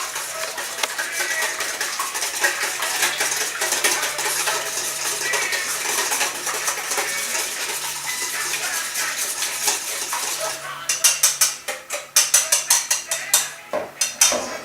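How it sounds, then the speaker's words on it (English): Eggs being mixed in a bowl with cinnamon, a utensil scraping and clinking steadily against the bowl, becoming sharper, louder, rhythmic strokes near the end, no talking. "Mix your eggs around."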